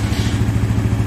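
A Suzuki GSX motorcycle engine, still cold, runs with a loud, close, rapid low thumping pulse that is steady and even across the whole short stretch, with no talking over it.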